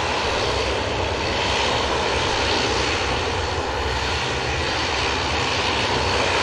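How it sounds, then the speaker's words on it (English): Ryanair jet airliner engines roar steadily at an airport, a loud, dense, unbroken wash of noise filling the whole stretch without voices. "Should be followed out by this Ryanair here in front of us."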